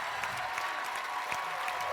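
Studio audience applause on a Quebec evening TV show, a dense, even wash of clapping that holds steady at moderate volume throughout.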